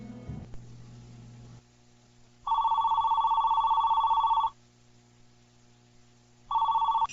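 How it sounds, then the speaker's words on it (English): A telephone rings during a radio broadcast call: two loud electronic ring bursts, one long and one brief after a pause, with faint low background hum between them and no talk. "Let me see if I can get him on the phone."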